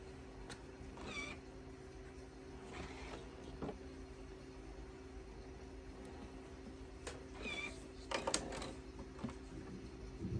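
A cat meows a few times as it approaches in a quiet home sewing room. The short, rising calls sit over a steady low hum, with small rustles in between.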